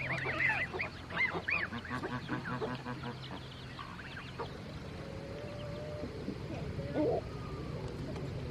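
Geese honk repeatedly and loudly close by in a backyard poultry area, their calls clustered early and then sparse later over a soft background hum.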